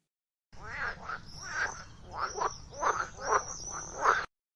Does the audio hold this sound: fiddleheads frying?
no